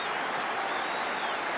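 Melbourne Demons supporters cheer and applaud at a 1988 elimination final football match against West Coast, a dense, steady roar of clapping and crowd noise heard from a distance.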